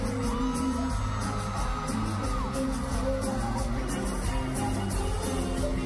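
An arena concert crowd screams and cheers as the singer enters, a dense, loud, continuous roar with whoops and yells, heard alongside music and voices.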